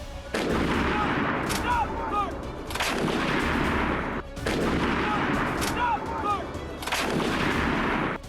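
Artillery shells firing in the war in Ukraine, a series of heavy booming blasts, each followed by a long rumbling echo, with sharper cracks and bursts mixed in, fairly distant and recurring every few seconds.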